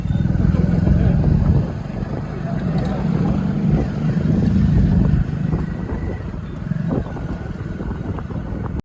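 A motorcycle engine rumbles steadily at close range as it passes, swelling and fading a little, with wind noise and voices mixed in.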